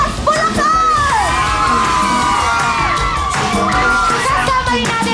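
A large, loud crowd shouts, whoops and cheers together at a live event in the Philippines, with excited yelling voices rising and falling continuously.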